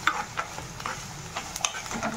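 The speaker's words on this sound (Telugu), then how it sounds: "చూడండి, ఇప్పుడే వేగుతుంది" Onion seeds, small onion, ginger and coconut frying as a tempering in a pan, soft sizzling broken by several sharp stirring clicks and scrapes from a utensil.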